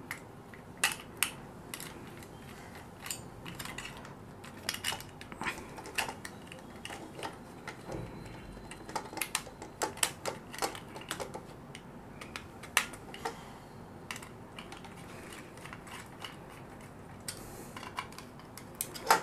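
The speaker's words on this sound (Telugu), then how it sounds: "నాకు వీలుగా ఉన్నటువంటి స్క్రూలు నేను వేస్తున్నాను ఇక్కడ" Screws are driven by hand to fix a switch board holder, producing a series of small irregular ticks and metallic clicks, close but faint, spread unevenly across the stretch.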